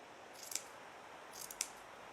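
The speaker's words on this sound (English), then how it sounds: "I'm using quite good fabric scissors." Good fabric scissors cutting felt in straight lines, two quiet crisp snips about a second apart, each a short rustling slice ending in a sharp click, close and faint with no talk.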